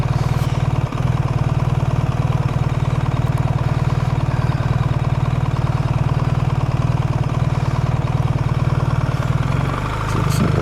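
A BMW R1300 GS motorcycle engine idles steadily close by, a constant low rumble with a faint dull tappet ticking on the right side, with no talk over it.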